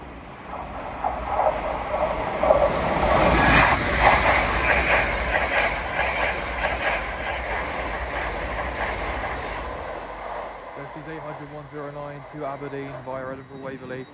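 LNER Azuma train running from London King's Cross to Aberdeen, passing through Alexandra Palace on the East Coast Main Line, rising to a loud rushing rumble with rhythmic rail clatter, then dropping away as people talk.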